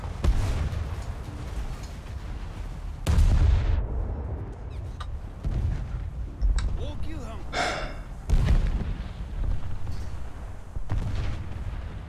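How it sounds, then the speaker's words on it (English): Ship guns firing in World of Warships, the Furutaka cruiser taking fire from small-calibre guns, with several heavy booms and blasts at irregular intervals mixed with someone talking. "Why are you all shooting at me with the world's tiniest guns?"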